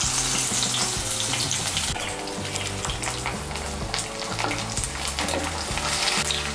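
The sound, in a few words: jute leaf fritters frying in oil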